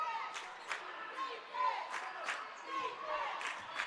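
Basketball crowd at a boys high school game between Tug Valley and Charleston Catholic erupts after an alley-oop, a steady roar of cheering and shouts with clapping bursts throughout.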